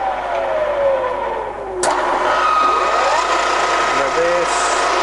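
A Z 35 radial arm drilling machine runs at its top spindle speed, and its motor and gears make a steady, loud mechanical whine. The tone slides and changes pitch as the gears shift.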